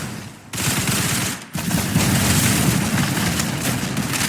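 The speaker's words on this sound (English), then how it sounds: "Double barrel shotgun." Video game double-barrel shotgun gunfire: dense, loud sustained blasting with booming low end, briefly dropping out twice before continuing as a heavy roar of shots.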